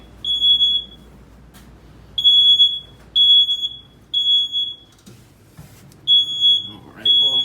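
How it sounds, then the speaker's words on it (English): A smoke detector in a new 2024 CrossRoads Hampton HP390PVL destination trailer sounds repeated loud, piercing beeps in short bursts separated by brief pauses, with some faint handling noise in between. "Smoke detector's going off because I do have the heat on."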